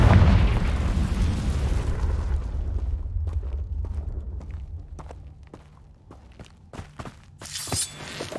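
A Confringo fire spell bursts in Hogwarts Legacy, opening with a loud, deep explosive roar that decays over a few seconds into scattered crackles and small pops, then a brief bright flare near the end.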